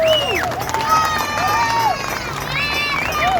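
Protest crowd in Sydney cheering and clapping outdoors, a loud sustained roar with whistles and shouts rising and falling over several seconds.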